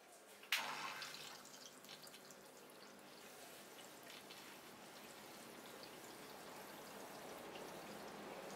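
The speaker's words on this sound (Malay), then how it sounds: "Kita akan on dulu water pump ni." A mini aquarium water pump switches on with a sharp click, then water pours and trickles steadily back into the tank, a soft, close, continuous splashing that builds slightly over time.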